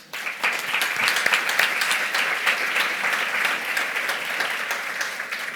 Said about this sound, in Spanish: un gran aplauso para ellas dos